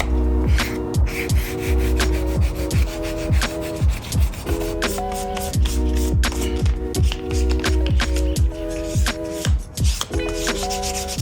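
A leather iPhone 13 phone case is rubbed with sandpaper in repeated short back-and-forth strokes, a close scratchy rasp in steady rhythm with a tonal hum behind it.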